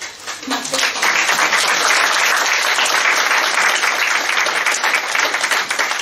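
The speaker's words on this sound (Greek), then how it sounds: "Σε αυτό το σημείο θα δώσουμε ένα ζεστό χειροκρότημα" Warm, sustained applause from the audience at a poetry book presentation, loud and dense clapping that swells after a quieter start and carries on steadily to the end.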